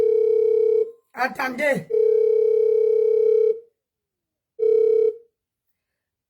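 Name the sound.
telephone ringing before being answered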